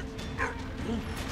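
A dog in the World War I video game Valiant Hearts gives short yips and a whimpering bark over a steady game background, moderately loud and close.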